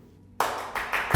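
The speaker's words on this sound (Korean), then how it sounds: "박수 치고 끝내겠습니다" A few sharp hand claps ring out close by in a quick burst, ending a talk by a doctor.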